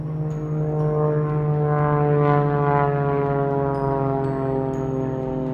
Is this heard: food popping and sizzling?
no